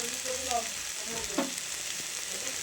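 Khosla greens with poppy seed stirred in a pan, a steady close sizzle with soft scraping strokes of a spatula running throughout, one sharper clink near the middle.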